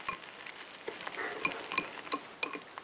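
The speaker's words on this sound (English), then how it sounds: "Mix this using a whisk" A whisk beats basic pancake batter in a bowl, a steady scraping swirl punctuated by sharper clinks of metal against the sides, close and fairly quiet with no voices.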